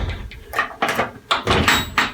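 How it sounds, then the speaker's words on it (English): Glass shower door in a 2022 Keystone Carbon 338 travel trailer being pushed and latched shut, several close knocking clicks and rattles in a row with brief rustling between them. "make sure that your shower glass doors are latched in place"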